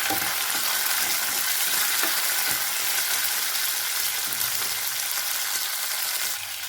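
Tomatoes and radish sautéing in a pan for a chutney, giving a loud, dense and steady sizzle that continues without a break and eases slightly at the very end.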